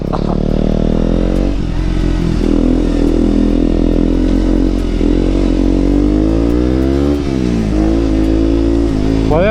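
A KTM Duke 125 motorcycle engine drones steadily while riding, its pitch climbing and dropping with gear shifts and throttle changes, loud and continuous throughout.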